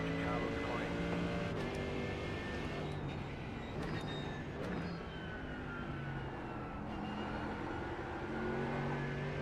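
An iRacing race car engine sits at full throttle, a sustained droning tone that shifts pitch through the corners, mixed faintly under other cars and a quiet overall level.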